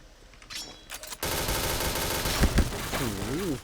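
Rapid automatic gunfire in the video game Point Blank, a loud continuous burst of shots after a few quieter clicks, with a sweeping electronic tone toward the end.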